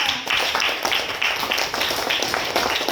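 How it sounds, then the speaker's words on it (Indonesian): Classroom applause for a classmate, with a dense, steady patter of many hands clapping loudly and continuously throughout. "tepuk tangan untuk kawannya"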